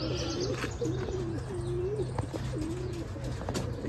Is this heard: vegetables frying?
no